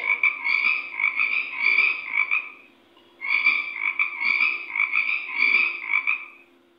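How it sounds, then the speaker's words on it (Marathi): A frog croaking in rapid rattling bursts, two long runs separated by a short pause, clear and close with no other sounds. "बेडूक आहे. डराव डराव करत."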